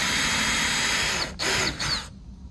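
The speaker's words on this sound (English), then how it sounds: "we're going to use a drill some holes in here and use our screws to mount it." A power drill bores holes through a PVC mounting puck on a kayak, whirring loudly and steadily up close, then briefly cutting out, revving again in a short burst and stopping.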